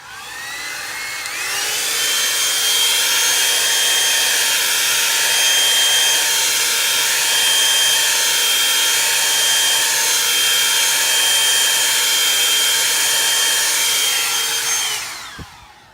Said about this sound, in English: I'm gonna hit this with a dryer.